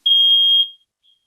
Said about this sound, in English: That's a fire alarm, smoke alarm.